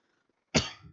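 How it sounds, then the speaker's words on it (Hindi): A single sharp cough from a man teaching a history class, sudden and close after near silence, with a brief raspy tail. "तो हल्की हल्की खांसी सी है"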